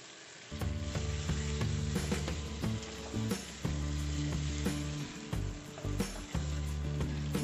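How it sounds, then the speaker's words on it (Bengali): Potatoes fry with spices in a pan, a dense, loud, crackling sizzle that runs throughout, broken by a few scrapes and stirs, with a steady musical tone running underneath. "আলুগুলো অ্যাড করে 1-2 মিনিটের জন্য মতো মশলাগুলোর সঙ্গে আমি কষিয়ে নেব।"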